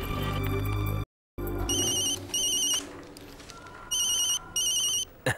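A telephone rings with an incoming call in a Hindi-dubbed action movie scene, its electronic ringtone sounding in repeated bright bursts after a short silent gap, loud and close over a busy music background.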